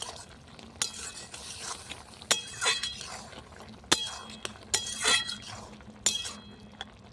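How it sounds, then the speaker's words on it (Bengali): Sharp metallic clinks and clatters ring out several times at irregular intervals as a lid comes off a pot of okra and prawn curry cooking on a clay stove, with soft stirring and bubbling in between. "10 মিনিট হয়ে গেছে, এবার ঢাকাটা উঠিয়ে নেবো।"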